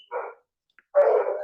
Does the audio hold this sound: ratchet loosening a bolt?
no